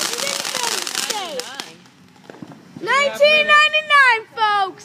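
TNT fireworks in an Independence Day grand finale crackle and pop in a dense burst over the first second and a half. Excited nearby voices, including a child's, talk over and after the bursts.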